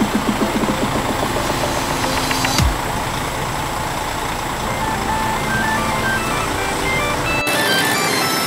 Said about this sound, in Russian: Всюду снуют мотоциклы и мотобайки, а еще и похожие на тук-туки.